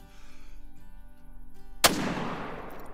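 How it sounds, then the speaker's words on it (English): A single loud rifle gunshot rings out while hunting a wildebeest in the video game Call of the Wild, a sharp crack with a decaying tail after quiet ambient game sound. "So we took the shot."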